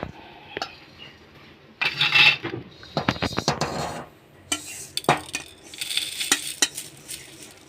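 Roasted spices being ground on a shil-nora grinding stone: bursts of gritty rasping and scraping strokes with sharp stone-on-stone knocks, coming in uneven spurts with short pauses between them.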